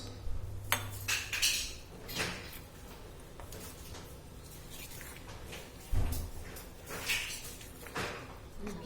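Rava cake batter is stirred in a bowl while milk is added little by little, heard as quiet, close scraping and clinking of a utensil against the bowl, in irregular strokes with a few louder knocks.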